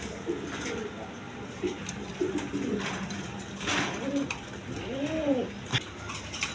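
A pair of blue shorting pigeons coos nearby, with a few scattered murmurs building to two clear, rolling coos over a low, steady hum.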